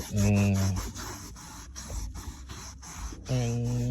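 A cloth soaked in thinner scrubs a stain on a car seat in quick, repeated rasping strokes. Brief moments of a person speaking come at the start and end.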